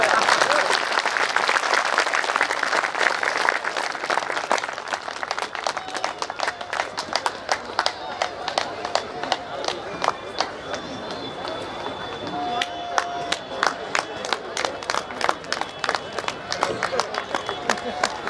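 An audience at a stage event breaks into a long round of applause while a guest is presented with a cap; the dense clapping thins into sharper scattered claps, with a voice speaking over it.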